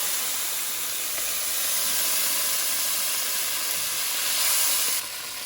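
Onions, red chili, ginger and garlic sizzle in a pan with a loud, steady broadband hiss that holds evenly, swelling slightly before dropping at the end.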